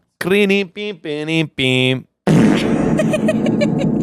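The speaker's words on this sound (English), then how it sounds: "It just needed a little bit of a fart." A fart sound effect follows short sung or spoken voice phrases on a comedy podcast, landing as one loud, raspy, sputtering blast about one and a half seconds long.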